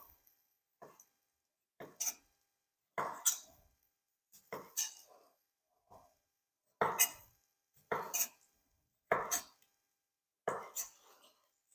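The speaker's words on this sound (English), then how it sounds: "While we slice our tomatoes." Tomatoes sliced with a knife on a cutting board, about ten crisp separate cuts in a loose rhythm, close and quiet with no other sound between them.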